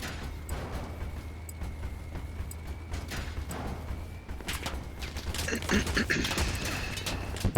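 Machine gun fire in an online vehicle combat game, sharp bursts and scattered shots crackling over a low engine rumble, with players talking over the action.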